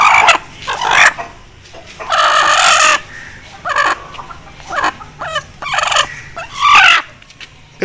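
Aseel hen clucking in short repeated bursts, close and fairly loud, with a few louder calls among quieter clucks.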